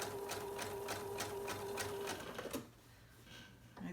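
Rapid rhythmic whirr of a sewing machine stitching fabric for a fully lined A-line jumper, with even regular clacks for about two and a half seconds before it stops, leaving a quiet room.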